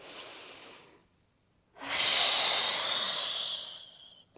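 A slow, audible exhale through the mouth during a Pilates mat exercise, a short breath first, a pause, then a long airy breath lasting about two seconds and fading out, close and alone.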